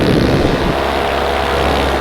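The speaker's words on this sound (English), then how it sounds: "plane coming, look out!" An airplane passes near a paramotor in flight, its propeller drone loud and steady over broadband wind rush, strongest at the start and holding on with a low engine hum.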